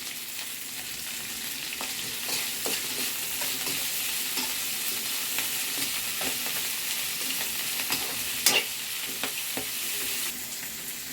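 Ingredients sautéed in a pan with a ragi-based dish in progress: a soft continuous sizzle with intermittent stirring scrapes and a few sharper clinks, close by and without speech.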